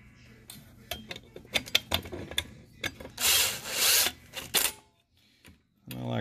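A Makita power tool runs in short bursts and two longer whirring stretches while tightening bolts on the bottom end of a Polaris Ranger 800, mixed with ratcheting clicks and metallic handling knocks, close up.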